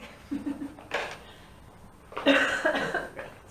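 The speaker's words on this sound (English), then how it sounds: "My cough." A few short, moderately loud coughs in a quiet room, with a pause between an early burst and a later, stronger cluster.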